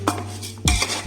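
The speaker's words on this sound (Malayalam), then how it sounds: "എന്നിട്ട് ഇതിനെ നല്ലതുപോലെ ഇളക്കി യോജിപ്പിക്കുക." A utensil clinks and scrapes against a pan while rice is stirred and mixed for a biryani-pulao-fried rice dish, two distinct knocks close by, no talking.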